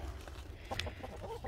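Chickens cluck softly in short, scattered calls over a low background hum, fairly faint and brief.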